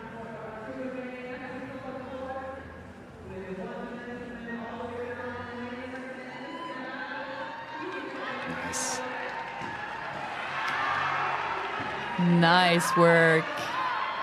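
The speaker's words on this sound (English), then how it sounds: "we love to hear the crowd going wild" Crowd at a weightlifting competition in the Austrian Throwdown 2025 finals cheering and whooping as an athlete completes a lift, building to louder shouts near the end, under a commentator's steady talk.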